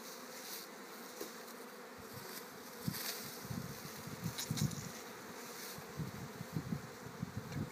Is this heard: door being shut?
no